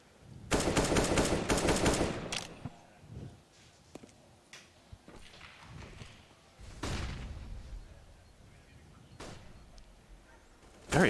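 Bursts of rifle gunfire in Counter-Strike on the Inferno map during a Liquid vs Fnatic tournament match: a loud volley near the start, then scattered single shots and a second burst later, amid quiet game ambience.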